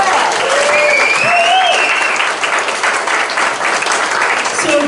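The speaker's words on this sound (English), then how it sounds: "All right, let's hear it again for Raya Fisher." Audience applause fills a comedy club during a stand-up set, steady, loud and dense throughout, with scattered whoops and a few voices shouting over the clapping.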